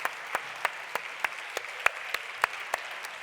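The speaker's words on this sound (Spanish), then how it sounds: "Pues un aplauso" A small audience on a cooking programme claps in sharp, spaced, fairly regular hits over a faint background, quiet and somewhat distant, with no talking over it.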